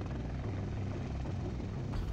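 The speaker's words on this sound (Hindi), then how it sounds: "करीब 1 मिनट बाद हेलीकॉप्टर टेक ऑफ के लिए तैयार हुआ।" Helicopter carrying the Maharashtra chief minister sitting on the ground with its rotor spinning before takeoff, a loud, steady close-up whirring drone with no talk.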